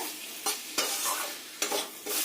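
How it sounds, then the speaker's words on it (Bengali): Kakrol (bitter gourd) frying with spices in a pan, a steady close sizzle broken by several scraping stir strokes of a spatula against the pan, with no voices. "কাঁকরোলের সঙ্গে মশলাগুলো ভালো করে ভেজে নিতে হবে"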